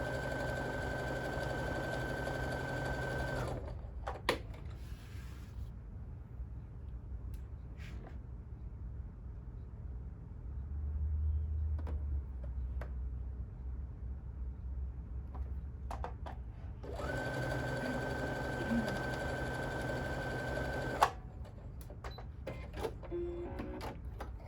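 A sewing machine stitches quilt pieces in steady mechanical runs, with a clear pause in the middle before the whirring resumes, fairly quiet and close.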